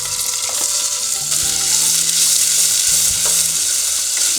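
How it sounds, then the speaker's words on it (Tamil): Onions fry in ghee with green chillies, bay leaf and spices, giving a loud, continuous close sizzle with stirring clatter throughout. "கொஞ்சம் நல்லா வெங்காயம் வந்து வதங்கட்டும்."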